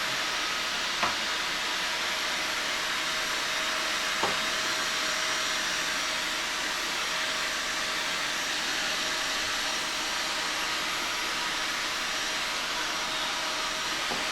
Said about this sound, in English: I'm only doing this gentler because there's no need for a lot of vigorous hoovering on here